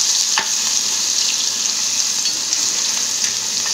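Garlic sizzles in hot oil with cumin seeds, a steady bright hiss of frying with a brief stir clatter near the start and no talk.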